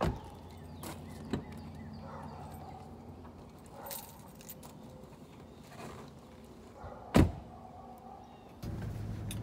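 Someone climbing into a car, with scattered thumps and rustles, a sharp door clunk, then the low hum of the cabin, all close and fairly faint.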